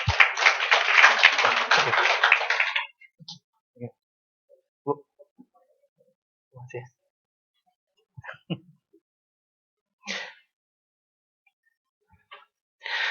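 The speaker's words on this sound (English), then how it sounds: "give them a big applause" Workshop audience applauding presenters at a development research session: a dense burst of clapping for about three seconds that cuts off, followed by sparse scattered claps and small noises in a quiet room.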